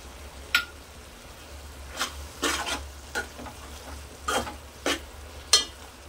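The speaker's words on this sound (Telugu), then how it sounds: "ఇప్పుడు కారం వేసుకుందాం." Chili powder fries and is stirred in a pan of brinjal and tomato curry, with a spatula scraping in scattered, uneven strokes over a soft, steady sizzle at moderate level.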